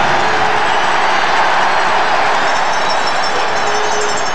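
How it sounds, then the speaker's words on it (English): A football stadium crowd at a Grey Cup game with the Montreal Alouettes roars loudly in a dense, unbroken wash of noise that holds steady throughout. "listen to the crowd"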